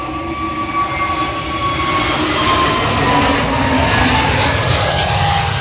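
A Qatar Airways Boeing 787 roars loudly and steadily on its takeoff run, a close, continuous jet engine rumble and whine with no voices.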